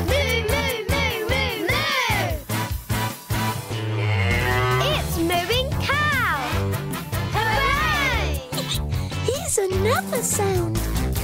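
A voice sings repeated mooing imitations in a lively children's song over rhythmic music, the long low moos coming in groups of three.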